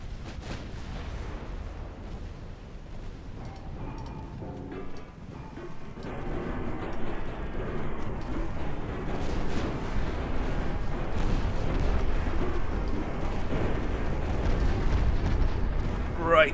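A warship's secondary guns firing in a naval video game, heard as a continuous rumble of distant booms and explosions under a steady roar, while a voice talks over it.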